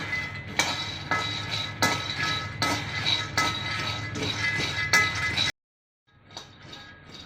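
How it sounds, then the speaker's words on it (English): Groundnuts dry roasting in a pan over a flame, with steady rattling and clinking as the nuts are stirred and tossed, a few sharper knocks, then a brief pause before quieter stirring resumes. "We are going to dry roast the groundnut"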